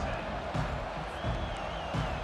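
Stadium crowd roar from a college football game in EA Sports College Football 25, a steady dense wash of cheering with periodic swells and thumps, playing continuously under faint background sound.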